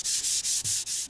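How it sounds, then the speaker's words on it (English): Hand sanding a wooden cabinet door panel with a sanding block faced with sandpaper, a steady close scratchy rub in five quick back-and-forth strokes with brief pauses between them. "to sand into the corners of the panel, I made a block that has sandpaper on the face and on the side, so it sands right into the corner"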